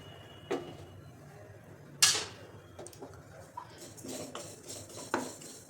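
Sesame seeds and peanuts being dry-roasted in a pan, heard as light scraping and metallic clinks of a spoon against the pan, with a few louder knocks spread over a quiet background and no talk.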